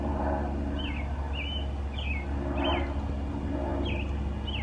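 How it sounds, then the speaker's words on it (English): A bird sings outdoors in a steady run of short repeated chirps, spaced roughly every half second to second, fairly distant over a constant low background hum. "if you hear that bird, it's this bird right there"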